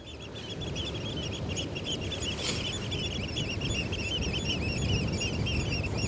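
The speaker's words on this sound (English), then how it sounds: "some birds are so loud" Loud goose-like honking birds at the Westerschelde in the Netherlands on a summer evening, repeated rapid honks layered in a dense, continuous chorus close by.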